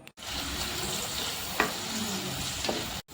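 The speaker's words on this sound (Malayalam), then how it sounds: "ഇതിലേക്ക് ഒരു മീഡിയം സൈസ് സവാള നീളത്തിൽ കട്ട് ചെയ്തത് ചേർത്ത് കൊടുക്കാം" Sliced onion, cut lengthwise, hitting hot oil in a pan for beef vindaloo, a loud continuous sizzle up close with a couple of brief scrapes of a spoon partway through.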